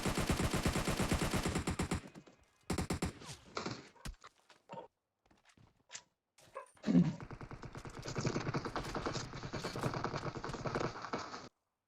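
Video game gunfire from an enemy shooting in the open: bursts of rapid automatic shots, then scattered single cracks and short pauses, then another long sustained volley, fairly close and loud with no talk.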